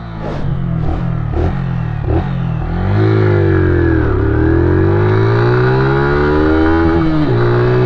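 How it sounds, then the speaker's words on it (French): A 125cc motorcycle engine blipped in several short revs, then held high against its rev limiter at around 8000 rpm, a loud, close buzzing whine that wavers and stutters while it is pinned, with no talk. "Alors là j'ai eu le rupteur à 8000"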